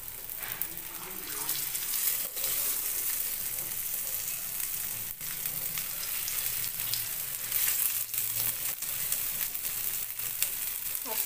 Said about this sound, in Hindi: ये तवा मेरा बड़ा है इसलिए हम एक साथ डाल दे रहे हैं